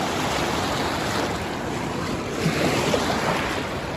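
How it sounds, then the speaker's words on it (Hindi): Waves on the Ganga river near riverside camps on the Kedarnath trek route, a steady loud wash of rolling water with wind noise buffeting the microphone throughout, no voices. "ऐसे लहरें आ रही हैं।"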